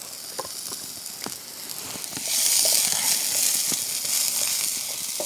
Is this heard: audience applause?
no